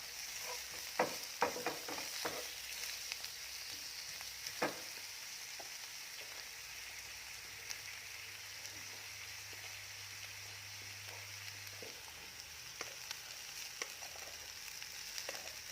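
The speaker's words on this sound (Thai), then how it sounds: "เราก็จะผัดขิงลงไปค่ะ ประมาณ 20 กรัม ใช้ไฟกลางค่ะ" About 20 grams of ginger stir-fried over medium heat in a pan for vegetarian chicken rice, a steady broadband sizzle with scattered spatula scrapes and clicks, continuous and fairly quiet, with no talking.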